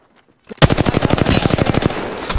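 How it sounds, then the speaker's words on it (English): Rapid automatic gunfire in the video game Apex Legends starts suddenly after a near-silent moment. A loud, close burst of evenly spaced shots runs without a break. "Taking fire!"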